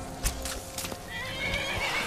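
A horse in the video game Skyrim gives a loud, close neigh and whinny, accompanied by scattered hoof clip-clops.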